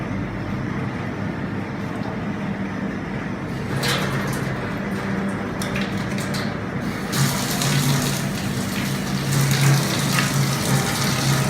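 Continuous rush of running tap water as hands are washed under a kitchen faucet, steady and fairly loud, with splashing growing slightly busier in the second half.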